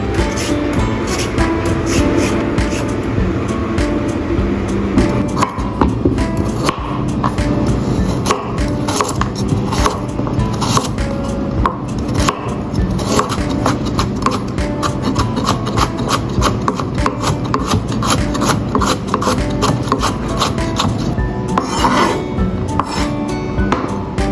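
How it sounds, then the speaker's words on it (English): A carrot is peeled and shredded by hand for fried abalone noodles, giving a steady run of dense, rapid scraping and rasping strokes, close and fairly loud with no talk throughout. "Peel and shred carrot."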